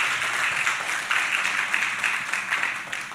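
Applause from a church congregation during a sermon, a soft, steady patter of many hands clapping in a reverberant hall for a few seconds, with no speech over it.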